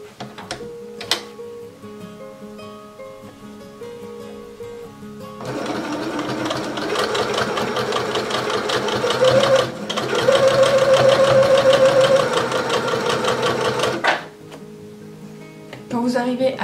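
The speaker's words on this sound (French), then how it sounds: "Nous avons épinglé endroit contre endroit et il va falloir coudre tout le tour" A sewing machine stitches around the edge of pinned fabric for washable makeup-remover wipes, starting with a few short bursts, then running in a steady loud whir for about nine seconds with one brief pause before stopping.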